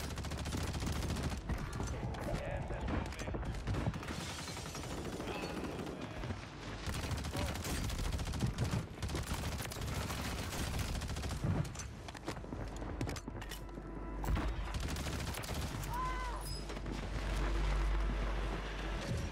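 Automatic rifle fire in a Rebirth Island battle-royale video game, dense rapid bursts and distant shots over constant rumbling wind, with voices talking at times.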